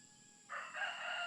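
A rooster crows once in a quiet rural spot among farm plots, a single drawn-out call rising after a brief lull, moderately distant against faint background hiss.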